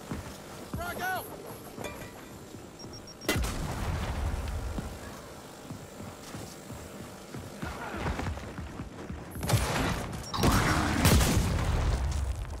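A frag grenade goes off in a Gears of War 4 team deathmatch: a sudden loud, close boom followed by heavy rumbling, with mechanical game noises and voices around it.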